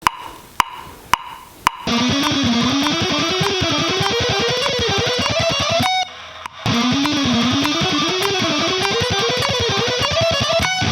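Electric guitar running a fast scale sequence at 100 bpm, steady rippling notes played alone after a few sharp clicks at the start, with a brief pause near the middle.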